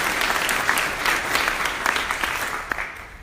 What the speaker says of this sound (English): So if we could give her a big round of applause